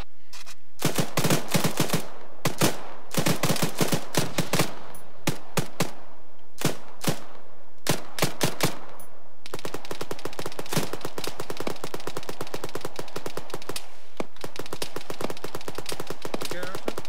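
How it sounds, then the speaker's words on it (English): Gunfire in the combat video game Arma 3: loud, rapid machine-gun bursts give way to shorter volleys, then one long sustained stream of automatic fire, with no talk over it. "See them, opening fire on it."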